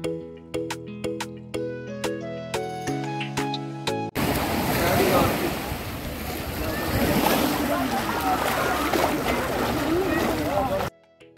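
Surf washing in at Butterfly Beach in South Goa, a steady broadband rush of waves taking over after a stretch of music and holding loud until it cuts off near the end.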